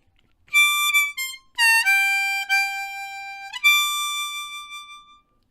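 A harmonica plays a blues turnaround lick in the second octave, starting on the 8-hole draw: a short run of clear, sustained reedy notes bending between pitches, played solo and up close.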